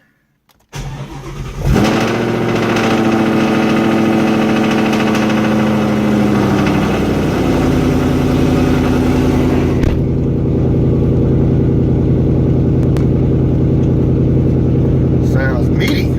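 A 2015 Ford Mustang GT race car's V8 cranks over and catches, then settles into a loud, steady, deep idle that holds close by for the rest of the stretch, with the rumble shifting slightly partway through.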